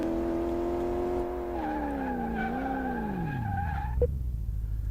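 A car in the Car Mechanic Simulator video game brakes hard into a corner on a suspension test, its engine tone sliding steadily downward into a long tire squeal and skid that ends abruptly, heard close and alone.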